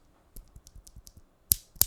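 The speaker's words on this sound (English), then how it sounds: "But it's a Gateron clear stem that I lubed." Keys typed on a keyboard fitted with lubed Gateron clear stem switches, 63.5 gram springs, nylon bottom housings and polycarbonate top housings: soft, close, muted clacks in an uneven run, ending with two sharper, louder strikes.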